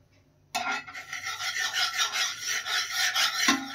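Cold butter scraped and rubbed around a pan with a utensil while cooking no-oil mixed vegetables, a steady close rasping scrape that runs continuously for a few seconds.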